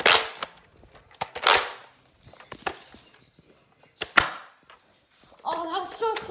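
Foam darts fire from Nerf blasters in a backyard game, a series of sharp snapping pops spread across the moment, close and loud, with excited children's voices talking and shouting between and over the shots.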